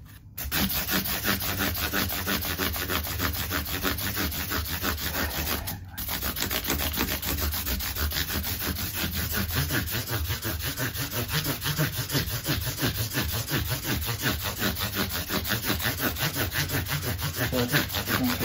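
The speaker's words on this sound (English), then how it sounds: "Sanding out process" Continuous rhythmic scratchy rubbing of sandpaper worked back and forth over an Epiphone Les Paul Standard guitar's wood, steady and close for the whole stretch, with one brief pause.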